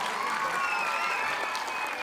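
Loud, dense applause from an audience at an annual dance academy show on Indian mythology, a continuous sustained wash of clapping that cuts off abruptly at the end.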